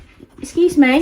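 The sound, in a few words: dog whimpering in the room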